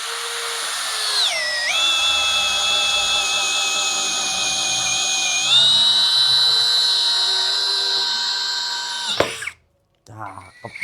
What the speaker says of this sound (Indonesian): Mode sudah masuk ke mode drilling ya. Langsung kita coba aja ya speed 1 dulu ya.